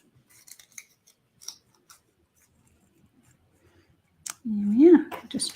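Scissors trim the ribbon of a bow on a stamped gift tag with one short, crisp snip in a quiet room, followed by a brief voice.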